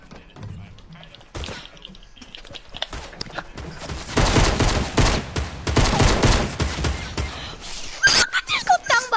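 Gunfire crackles in a Fortnite match as several opponents shoot at once, starting sparse and building into dense, rapid bursts of automatic fire over the second half, with sharp nearby shots near the end.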